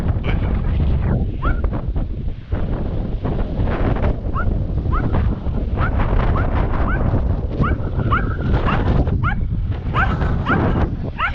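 Several sharp dog barks spaced apart with pauses between them, over steady wind rumble buffeting the microphone outdoors.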